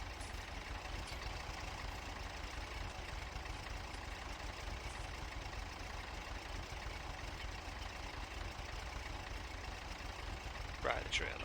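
A tractor engine idles steadily in a farming video game, a low continuous rumble that holds throughout, with a brief louder burst near the end.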